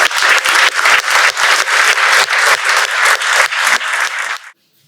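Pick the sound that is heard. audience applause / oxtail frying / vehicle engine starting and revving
audience applause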